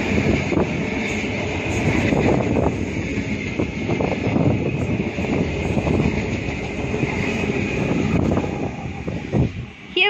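A Tango passenger train pulls into Summer Hill station. Loud rumbling and clattering rail wagons roll past up close with rhythmic wheel clicks and wind buffeting the microphone, and the sound tapers near the end.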